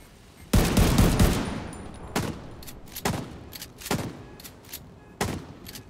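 Gunfire in The Division 2 co-op combat: a dense opening burst of automatic fire gives way to a string of separate loud shots and short bursts spaced a second or so apart, close and unaccompanied by talk.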